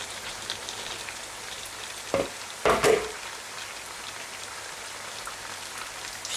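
Mushrooms tipped into a pan of softened eggplant and onion set up a steady, even sizzle, with a louder clatter and hiss around the middle as they land, then continuous frying, no voices.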